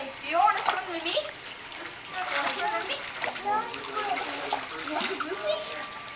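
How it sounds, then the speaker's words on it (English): A young child splashes in water while swimming, with uneven slaps and sloshes close by as the child and an adult talk throughout. "Hey, Carly, do you want to swim with me?"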